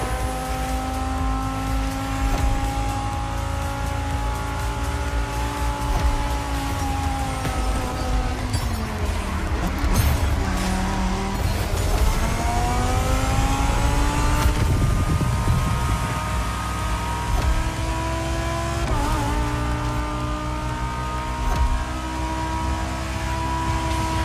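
A Lamborghini Huracán Performante races in Forza Motorsport, its engine wailing loud and close, with pitch repeatedly climbing through the gears, dropping sharply on braking and rising again on acceleration.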